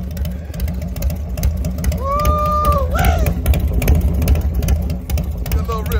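A 1995 Harley-Davidson Evo motorcycle engine runs with a loud, lumpy low throb and pulses as it is revved, while a person talks and whoops over it.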